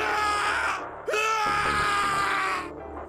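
A man's anguished scream of rage and despair in the Zero Escape: 999 video game, loud and close, rising and wavering in two long bursts with a brief break between them.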